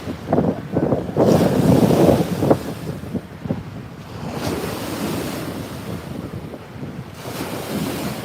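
Strong wind blows across freshwater Lake Wakatipu near Queenstown, New Zealand, roaring and buffeting the microphone in heavy gusts alongside a constant rushing of lapping water, with no voices.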